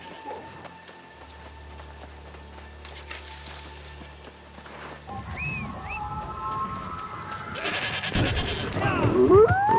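Sheep bleating inside the video game New World, several short rising calls near the end over a busy game soundscape of music and effects, with a voice speaking.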